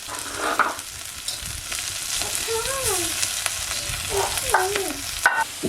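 Crisp potato slices fry in a pan over a wood-fired clay stove in a Konkan kitchen, a steady close sizzle with light stirring scrapes and a few clinks. Faint tonal chirps drift in from the background.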